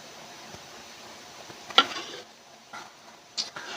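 Raw beef and fresh herbs tossed together in a bowl for zesty beef skewers: a few soft, scattered stirring clicks and light clatters, one sharper knock standing out, quiet overall with no talking.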